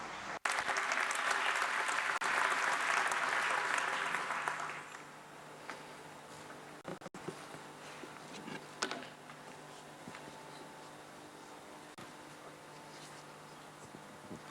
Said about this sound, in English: and now applause for Professor.